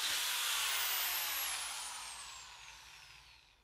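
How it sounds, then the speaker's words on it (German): A power drill bores vertically into a wooden well pipe, a high whining hiss that starts loud and slowly drops in pitch and fades over a few seconds, heard alone. "Er bohrt vertikal auf das horizontale Bohrloch."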